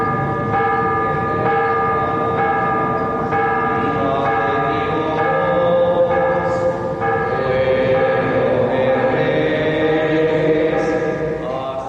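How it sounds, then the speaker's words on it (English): Church bells ring out over a neighborhood to call residents to Mass, a dense, continuous peal of overlapping strikes with rich ringing overtones, loud and steady, with no voices. "church bells called the residents to Mass"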